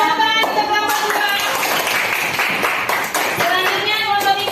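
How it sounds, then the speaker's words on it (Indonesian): Classroom audience clapping for a presenting student group, a dense, steady patter of many hands that stays loud throughout with no pauses, and mixed voices also present. "Berikan tepuk tangan untuk kelompok 2."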